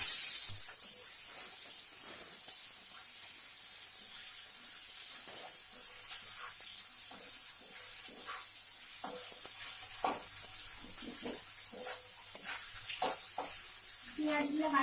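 Onions frying in hot oil with cumin and a whole chilli for egg biryani, a steady hiss with scattered clicks and scrapes of stirring, close and fairly loud.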